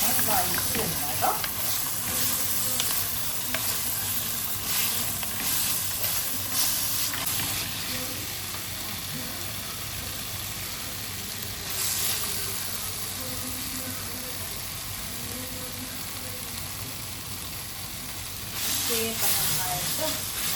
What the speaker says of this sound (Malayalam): നല്ലോണം വഴറ്റി വെക്കാം കേട്ടോ.